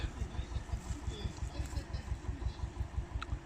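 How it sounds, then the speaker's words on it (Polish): A tractor engine chugging steadily at a low, even idle-like rhythm, moderately close outdoors in a forest area, running alone without talk. "Traktor przyjechał"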